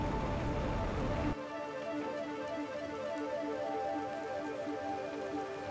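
Rain falls in the survival game The Planet Crafter, a dense, loud hiss that drops after about a second to a softer, steady wash beneath sustained droning musical tones.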